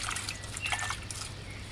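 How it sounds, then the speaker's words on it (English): Water for washing vegetables trickles and sloshes faintly into a bowl, a soft continuous pour close by with no voices. "get a bowl, add enough water"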